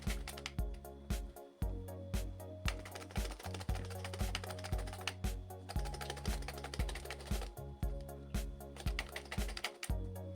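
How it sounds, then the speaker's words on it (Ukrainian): Cucumbers are sliced on a cabbage shredder, producing quick, rhythmic scraping clicks in steady bursts with brief pauses between passes, close and fairly quiet. "Можна різати ножем, але я використовую шинковку для капусти."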